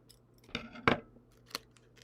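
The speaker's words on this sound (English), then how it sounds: "So I'm gonna use the scissors here." Scissors snip at a card pack in a few quick, close, crisp cuts, and the loudest cut comes about a second in.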